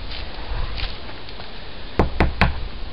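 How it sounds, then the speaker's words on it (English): Three sharp knocks on the front door of a house, close and distinct, following a stretch of quiet outdoor background noise. "I'm just gonna knock."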